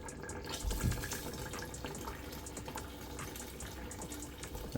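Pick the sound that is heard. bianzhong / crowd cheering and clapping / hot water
hot water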